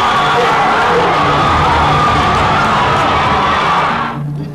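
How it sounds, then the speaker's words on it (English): A football crowd erupts after a goal, a loud, dense wall of cheering and shouting that holds steady for several seconds before dropping off abruptly near the end. "sends the crowd into euphoria"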